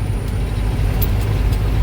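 Heavy road traffic held up by road works on a highway between Chennai and Kerala, heard from inside a truck as a steady, loud low rumble of engines with faint higher clatter, no talk.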